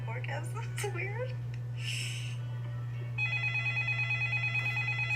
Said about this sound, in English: That's a loud phone.